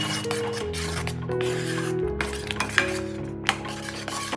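Paneer gravy with fresh cream being stirred and sautéed in a pan, a soft sizzle with occasional spatula scrapes and taps against the metal, under steady background music.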